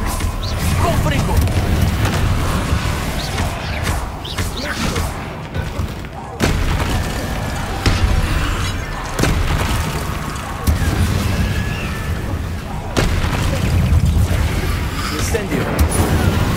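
Confringo explosive spell blasts in Hogwarts Legacy, a dense run of loud booms and crashes in fast combat, overlapping other spell effects and shouted incantations throughout.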